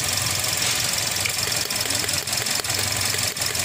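A 2022 Toyota Vios with a 1NR engine runs rough with a misfire, the steady idle broken by irregular stumbles and knocks as the engine shakes; no talk.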